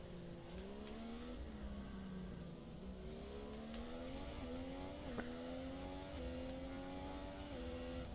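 A Formula 1 race car in the F1 2017 game drives with a steady engine whine, its pitch climbing through each gear and dropping at repeated upshifts, with occasional faint tire noise.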